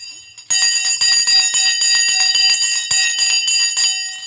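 A stock market opening bell rings loudly and close, a rapid, continuous clattering ring with bright metallic overtones that starts abruptly after a brief quiet moment and sustains for about four seconds with no talking over it.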